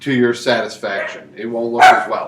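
A dog barks a few times in the background while a person keeps talking, the barks blending under the speech.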